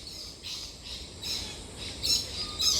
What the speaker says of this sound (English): The Aussie kookaburra.